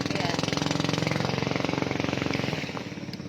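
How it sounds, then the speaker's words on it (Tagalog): A small boat motor at sea chugs steadily with a fast, regular pulse, fairly close, then fades slightly toward the end. "oh may gumanang motor."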